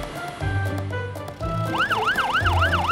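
A cartoon fire engine's wailing siren rises and falls in quick repeated sweeps, loud and close, joining a steady engine hum and brief rattling noises.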